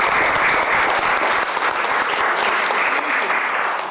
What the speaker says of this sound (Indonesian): Ya, tepuk tangan dulu boleh ya.